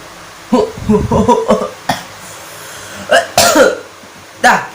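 A person gives a demonstration of coughing into a bare hand, with several short, close coughs and throat-clearing bursts in an uneven series, each sharp and loud against a quiet room.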